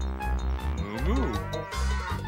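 A cow in a cartoon scene lets out a loud, drawn-out moo that swells and bends in pitch, close and dominant with no other voices.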